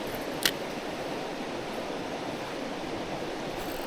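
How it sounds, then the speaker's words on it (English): A waterfall at a largemouth bass fishing spot gives a steady, moderate rush of falling water throughout, with a single brief click near the start. "So just a waterfall."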